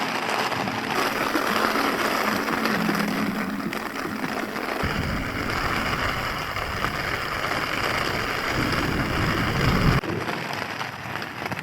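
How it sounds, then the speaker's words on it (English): Heavy rain in a thunderstorm drums steadily and loudly on a nearby tent, with a deep low rumble of thunder swelling underneath for several seconds. "it's raining very hard, with lots of thunder and lightning"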